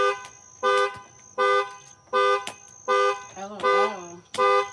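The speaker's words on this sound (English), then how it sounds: "That's our car alarm." A car alarm blares in a steady repeating pattern of loud electronic honks and tones, about six bursts in a row, close by on a homestead during a Halloween-time outing.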